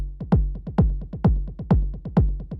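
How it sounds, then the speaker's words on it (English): Techno kick drum in a steady four-on-the-floor pulse, each punchy low thump trailed by quieter delayed repeats that fill the gaps, loud and clean with no other instruments or voices. "a classic techno rhythm has this delay effect on the kick"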